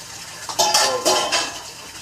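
A metal kitchen pot and its lid being handled: a few close clanks and clattering knocks with scraping metallic ringing, spaced irregularly over two seconds, with no talk.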